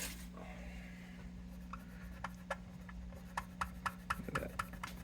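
Rubbing at Sharpie marks and tape residue on a BC Rich bass body with a naphtha-soaked cloth, a faint soft scrubbing that turns into a run of quick, short, rhythmic strokes over a low steady hum.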